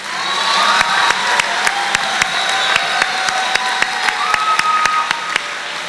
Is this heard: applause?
yes